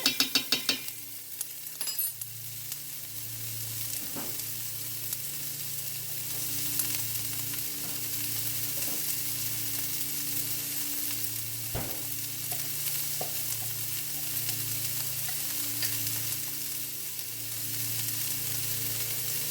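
Steady sizzling of leftover rice frying in a pan for fried rice, with occasional clinks and scrapes of stirring, continuous and fairly close.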